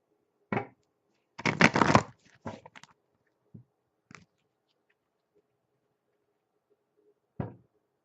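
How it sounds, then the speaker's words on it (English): Tarot cards being shuffled and pulled from a deck: a burst of riffling and slapping card sounds, then scattered soft taps and flicks as cards are drawn and laid down, close and moderately quiet with no talk. "Now we're going to pull you one more card, Cancer, for an outcome."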